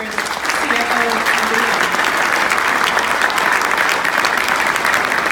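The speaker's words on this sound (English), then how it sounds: "Let's hear a big round of applause one more time for all of this year's" Loud, sustained applause from an audience honoring award recipients at a business CFO recognition event, steady clapping filling the whole stretch with a voice briefly audible over it.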